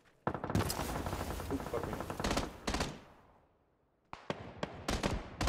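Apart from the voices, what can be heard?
gunfire in video game PUBG: Battlegrounds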